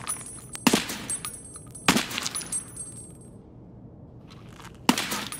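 Several sharp gunshots fire in Escape from Tarkov, three spaced reports with ringing high tails, separated by quieter game ambience.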